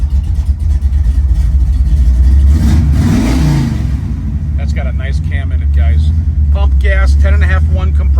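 A fuel-injected 1971 Chevrolet Camaro split-bumper V8 running loudly close by, its steady rumble swelling into a rev before settling, while someone talks over the engine.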